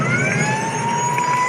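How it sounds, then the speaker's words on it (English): Long continuous siren blast at an Australian rules football match, AFLW West Coast Eagles versus Richmond at Mineral Resources Park in Perth, steady and loud over a broad crowd wash. "A welcome siren in some respects for the Tigers"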